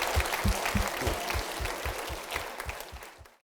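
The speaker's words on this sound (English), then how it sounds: "How about a round of applause for Mr." A small audience claps for author Ujifusa, a few distinct hands striking in a fairly regular rhythm for about three seconds before trailing off.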